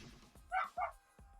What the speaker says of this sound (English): Sorry if I have a barking dog.